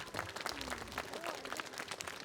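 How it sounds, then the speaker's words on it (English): Applause for a staff member at a veterans ceremony, soft and distant clapping from a crowd lasting a couple of seconds, with faint voices underneath. "Let's give Mrs. Ford a big round of applause"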